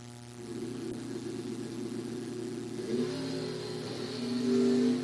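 A Chevrolet S10 drag racing launch at a bracket race: an engine revs hard and climbs in pitch as it pulls away, moderately loud and steady across the few seconds.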